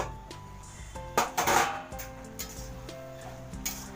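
A metal lid clatters onto a cooking pot of bottle gourd and prawn curry, a few sharp clanks clustered in the middle, close and fairly loud against a low kitchen hum.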